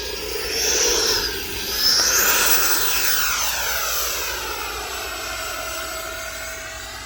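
An E-flite F-16 Viper RC jet with an 80mm electric ducted fan flies over a dusty farmland runway, its high, whooshing fan whine sweeping past and fading as it moves away.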